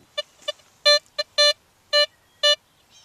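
A Blisstool metal detector in heavy trash emits a series of reedy, buzzy tones, seven or so short bursts of varying length, clear and close against near silence.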